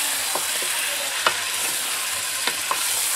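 Chicken biryani ingredients being stirred and mixed in a pot over heat, a steady background sizzle broken by several scraping and clinking strokes of the spoon, close and without speech.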